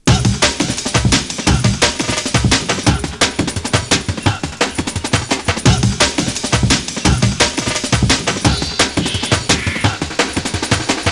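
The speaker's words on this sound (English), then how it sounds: "This is a very famous fill. All the breaks sound like this together." Dense jungle breakbeat drum fill built from classic old-school break samples layered together, loud and relentless with rapid-fire snare and kick hits packed tightly throughout, no talking.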